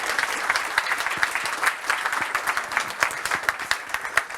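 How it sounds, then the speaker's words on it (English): Audience applause after an admiral's talk at a NATO youth summit, dense steady clapping from a sizable crowd throughout, fairly close and even in loudness. "Maybe we can thank him with a round of applause."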